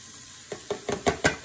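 Holy trinity vegetables for Louisiana dirty rice sautéing in an unwashed pan, heard as a quiet lead-in and then a run of five or six sharp stirring scrapes and sizzling bursts at a steady pace, close by.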